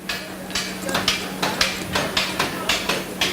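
A ball-peen hammer strikes metal repeatedly while forging a skull shape, delivering about eight sharp, evenly spaced blows close up over a steady low hum.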